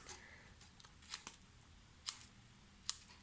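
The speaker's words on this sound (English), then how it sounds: "I'm just going to trim them off" Scissors snip the ribbon ends on a handmade black and tartan plaid Christmas gift bag, a few faint, sharp, separate cuts spaced out in a quiet room.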